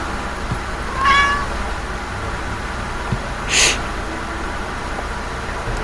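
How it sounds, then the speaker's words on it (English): A house cat meows twice, two short, fairly faint calls a few seconds apart against a quiet room hiss. "even my cat had to chime in on that one"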